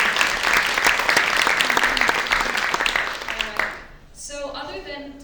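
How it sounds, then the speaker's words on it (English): An event audience applauds at the close of a talk. Thick, steady clapping runs for several seconds, fades out, and a voice begins speaking near the end. "Can we give a round of applause?"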